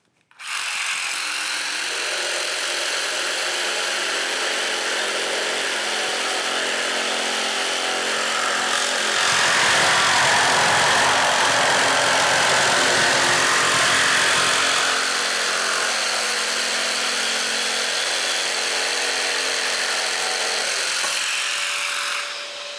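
A Festool Carvex PS 420 jigsaw cuts polystyrene insulation at reduced speed with minimal pendulum stroke, giving a loud continuous motor whine and buzzing for about twenty seconds, briefly roughening midway through the cut.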